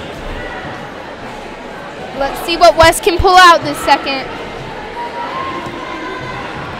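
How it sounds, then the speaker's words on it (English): Girls' voices from the Vista Ridge side cheer on their team at a girls varsity volleyball game, a brief burst of raised voices over steady gym crowd hubbub, with a commentator talking throughout. "Their girls cheering on their other Vista Ridge team"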